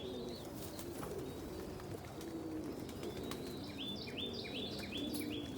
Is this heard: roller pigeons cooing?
yes